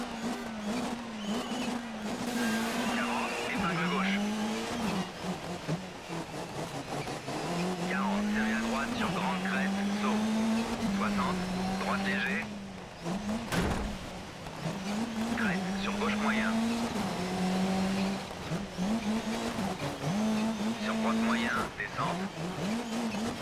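Rally car in the Dirt Rally 3 video game, its engine droning steadily with rising and falling revs and tyres scrabbling and squealing on loose surfaces throughout, with a voice talking over it.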